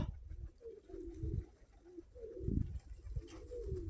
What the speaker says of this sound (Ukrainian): хочу показати мої дві красних голубки